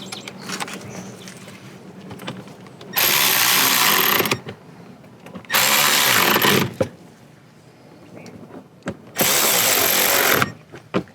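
A power tool drives bolts on a 2015–2018 Volkswagen Jetta VI during an active grille shutter motor replacement, with three loud, sustained whirring bursts of about one to one and a half seconds each, separated by quieter clanks and handling noises.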